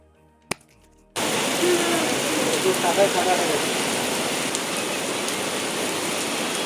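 Rain falling steadily and fairly loud, a dense even hiss that begins abruptly after a second of near silence with a brief click, continuing unbroken to the end.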